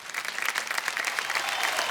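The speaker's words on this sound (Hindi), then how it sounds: "तालियां बज जाए इनके लिए" A studio audience on the KBC game show applauds a contestant who leaves with 10,000 rupees, a brief burst of dense, bright clapping from many hands that stays loud and even throughout.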